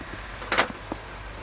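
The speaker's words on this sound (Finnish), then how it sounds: "se on se mun auto" A person getting into their own Toyota Corolla, a short burst of key jingle and door handling close by, then one soft knock, in an otherwise quiet moment.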